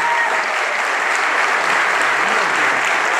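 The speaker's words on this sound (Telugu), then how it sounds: "మీ అందరికీ సమ్మతమైతే చప్పట్లతో ఈ తీర్మానాన్ని ఆమోదించాల్సిందిగా కోరుతా ఉన్నాం" A crowd at a political gathering applauds to approve a resolution, a loud, dense, unbroken roar of clapping from many people that holds at full strength throughout.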